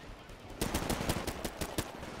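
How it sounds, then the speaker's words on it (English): Titanfall gunfire in a rapid burst of about ten evenly spaced, sharp shots, close and fairly loud, that starts after a brief quiet lead-in. "Wow, that was some very bad shooting."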